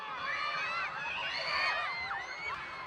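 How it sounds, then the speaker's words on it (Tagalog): Fans at a mall show in Davao City during the Araw ng Dabaw celebration scream and cheer for actress Sofia Pablo, a dense wash of high-pitched shrieks and whoops sustained throughout at moderate distance. "hiyawan ang isinalubong ng fans kay Sofia Pablo"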